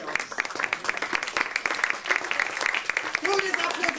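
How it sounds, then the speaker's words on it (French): Audience applause at a French café-théâtre comedy show, a steady patter of many hands clapping at moderate distance with a voice briefly heard over it near the end. "Tous les applaudissements."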